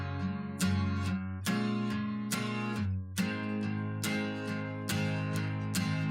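The intro of a song plays with a repeating chordal pattern and regular percussive hits, steady and moderately loud with no voices.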